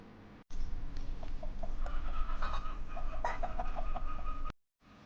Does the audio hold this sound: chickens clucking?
yes